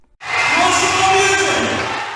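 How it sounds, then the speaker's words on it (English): A large concert audience at a 1971 rock show bursts into sustained applause and cheering. The roar swells in suddenly after a brief silence and stays loud and dense throughout, with shouts rising above the clapping. "There's about a minute worth of applause and crowd noise"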